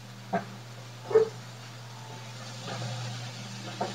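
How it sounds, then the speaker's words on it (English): Soft, brief dog whimpers and yips, a few scattered short sounds over a low steady hum. "I hear ya, dog smells food"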